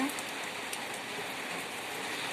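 Steady rain falling outdoors after about an hour of showers, a close, even hiss of drops that holds unchanged throughout with no voices.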